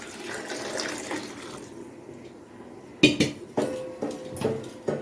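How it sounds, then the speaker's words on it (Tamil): Boiling water poured into a pot of mutton biryani, a soft liquid rush at first, then sharp metallic clinks and knocks of the pot and utensils, close and fairly quiet. "இதை நல்லா கொதிக்க தண்ணி தான் கொதிக்க வச்சு வச்சுருக்குறேன் இதை ஊற்றிடலாம்"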